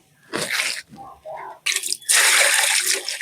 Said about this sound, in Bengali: মাছটা ধোয়া কমপ্লিট